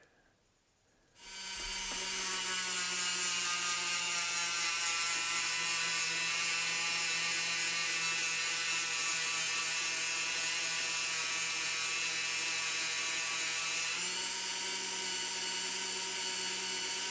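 After a second of quiet, a polishing wheel spins up to a steady high whine and buffs metal on a custom Nova wagon, holding one continuous tone with a slight drop in pitch near the end.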